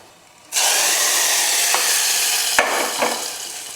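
Hot mustard-seed and curry-leaf tempering poured into an eggplant and potato curry, a sudden loud, sustained sizzle that bursts in and keeps crackling close by.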